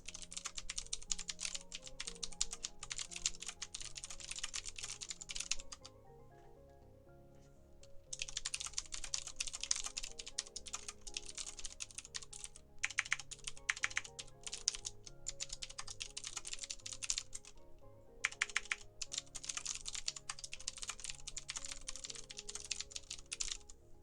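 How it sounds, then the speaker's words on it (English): Someone types steadily on a computer keyboard close by, with fast clicking runs broken by a few short pauses and no talking. "And I couldn't find a notepad, so I'm typing them out."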